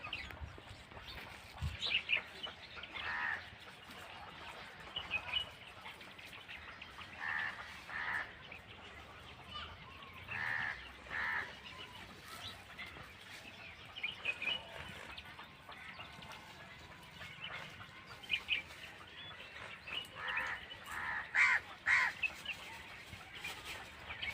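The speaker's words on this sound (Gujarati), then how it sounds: "અહીંયા વધારે પક્ષી આવે છે" Birds call in scattered, faint, intermittent bursts around a quiet village feeding spot where rice and millet grain are scattered, the cries rising over a soft outdoor background with no talking.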